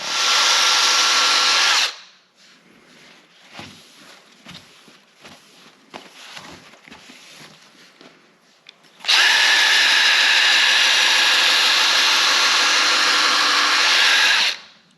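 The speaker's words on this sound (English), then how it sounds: "Put her on the drill, back and forth" A power drill driving a sander on a car headlight lens whirs loudly at high speed, stops for several seconds of shuffling and light handling noises, then runs again at full tilt.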